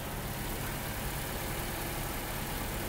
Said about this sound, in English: Here is the engine running.